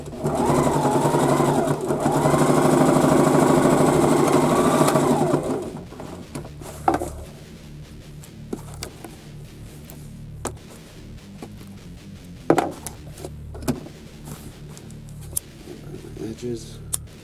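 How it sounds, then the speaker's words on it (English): A sewing machine runs a top stitch close to the edge of sewn fabric, whirring loudly and steadily for about five seconds, then stops, leaving scattered clicks and handling noises. "Just going to do a top stitch over it."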